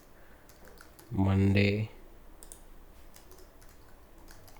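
Soft, rapid clicks of typing on a computer keyboard continue steadily at close range beneath someone speaking briefly in the middle.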